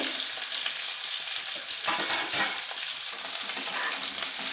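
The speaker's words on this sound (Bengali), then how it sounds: "দেখুন এঁচোড় আমার ভাজা হয়ে গেছে, এবার আমি তুলে নেব।" Raw jackfruit pieces fry in hot oil over high flame, a close, steady crackling sizzle with occasional stirring scrapes, no voices.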